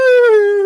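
A single voice imitates a crying whale with a loud, close, drawn-out wailing tone that slowly slides downward.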